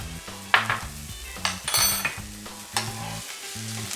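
Onions coated in melted sugar sizzle in a pan while being stirred, with a constant frying hiss broken by scraping and clinks of a utensil against the pan, close and without speech.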